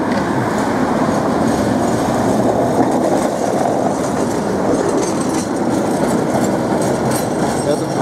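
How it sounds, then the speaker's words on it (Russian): Tatra tram on route 19 running along a city street, a steady loud rumble of wheels on rails with faint clicking joints, continuous throughout with no voices. "Трамвай, 19-й маршрут, едет по улице Фрунзе, следует в сторону Контрактовой площади."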